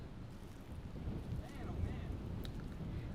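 Wind gusts across an outdoor disc golf course at a tournament, a steady low rumble of buffeting against the microphone that swells slightly partway through, with no clear voices.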